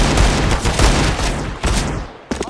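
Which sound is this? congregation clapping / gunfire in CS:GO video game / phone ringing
gunfire in CS:GO video game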